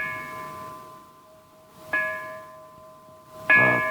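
A great golden bell from a 1964 film rings with a long sustained hum, then is struck twice more, each sharp clang blooming into a bright, lingering ring.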